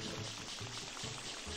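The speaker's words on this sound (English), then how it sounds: "I do like the little pitter-patter sound that Mario's feet make when he uses it." Mario's feet pitter-pattering with the turbo nozzle in Super Mario Sunshine, a quick rhythmic patter of soft steps under a steady rushing spray of water, continuous and fairly loud, with no speech.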